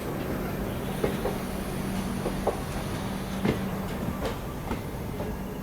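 The Coromandel Superfast Express rumbles along the rails from inside the train, a steady low roar with occasional faint clicks of wheels over rail joints.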